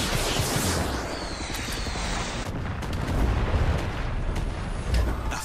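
Rocket explosion destroying a cannon in the video game Far Cry 6, a dense, heavy blast with rumbling booms and crackling debris filling the whole moment at close range.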